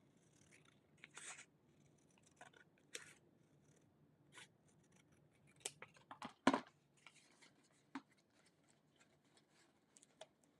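Scissors trim a cardboard pasta box railing, a quiet series of irregular crisp snips and crunches, with one louder cut in the middle and soft handling rustles between.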